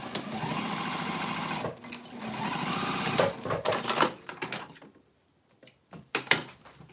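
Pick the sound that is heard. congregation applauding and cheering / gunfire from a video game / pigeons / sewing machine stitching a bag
sewing machine stitching a bag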